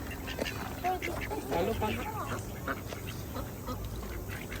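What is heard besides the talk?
ducks quacking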